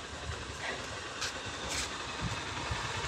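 A steady motorbike engine drone at idle runs throughout, a continuous close rumble with a few brief higher bursts and no speech.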